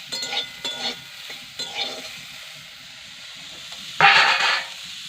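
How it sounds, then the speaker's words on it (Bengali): Soya chunks drop into hot oil and are stirred, giving short scraping strokes at a regular pace over a low background hiss. A sudden louder sizzle flares near the end. "সয়াবিন দিয়ে দিল তেলের মধ্যে"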